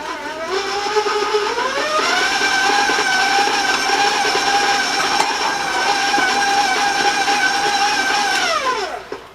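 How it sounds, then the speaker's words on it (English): An electric mixer runs steadily while creaming butter and granulated sugar for crispy oatmeal chocolate chip cookie dough. The whine starts up, holds at a loud, even pitch for about eight seconds, then winds down near the end. Nobody talks. "You'll want to cream your butter and your sugar, so it's going to take you 2 or 3 minutes"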